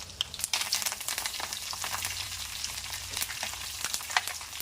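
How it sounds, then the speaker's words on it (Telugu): Garlic fries in hot oil for coconut chutney, a continuous crackling sizzle with scattered sharp pops, steady and close with no talking. "ఎల్లిపాయలు వేగాక కొంచెం మంచిగా వేగాలి"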